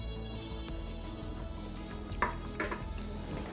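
A spoon working through food in a cooking pot while a roast is being prepared, soft steady scraping and stirring with two sharper clinks of utensil against metal near the end, close and quiet.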